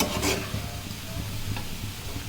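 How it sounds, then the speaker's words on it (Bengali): Shrimp fry lightly in a pan, a close, even sizzle with a few soft scrapes and clinks of stirring. "এই জন্য চিংড়ি মাছ হালকা একটু ভেজে নেব"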